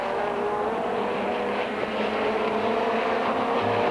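Touring race cars, a Vauxhall and a BMW M3, battle in a 1990 British Touring Car Championship race, their engines a continuous loud roar with no break or pause.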